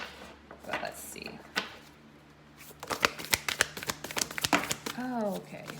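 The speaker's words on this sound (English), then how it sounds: "This deck is a little more challenging to shuffle because it's quite large." A large deck of cards is riffled and snapped together in a burst of rapid, crisp flutters, with soft handling before and a voice speaking briefly.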